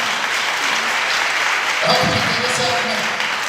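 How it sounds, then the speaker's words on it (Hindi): A church congregation claps during a gospel sermon, a steady wash of hand claps filling the space, with a voice briefly rising over it near the middle. "आप लोग जब ताली बजाते ना तो खुल के बजाया करो"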